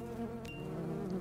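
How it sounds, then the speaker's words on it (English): Bees buzz steadily in the city-builder game Preserve as they settle into new habitats, a continuous close insect drone with no talk over it. "And the bees go into their new habitats, like so."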